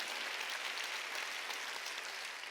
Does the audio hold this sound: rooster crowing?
no